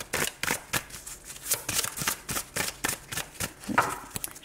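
Tarot cards are handled, shuffled and turned over, making a run of quick, crisp rustles and soft slaps in an uneven rhythm, close and fairly clear with no voice.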